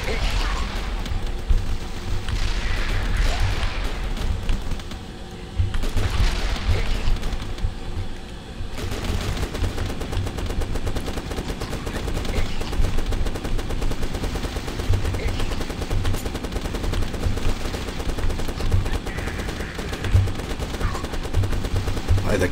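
Sustained automatic gunfire from an MG49 machine gun in The Last Stand 2, a dense continuous rattle of rapid shots running almost the whole time, with a brief lull early on and game noise mixed in.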